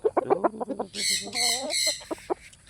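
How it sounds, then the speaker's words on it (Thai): Ordinary farm chickens cluck in a quick, close run of short calls, then break into a few louder, drawn-out squawks before settling back into clucks. "ก็เป็นไก่ทั่วๆไปนะครับ"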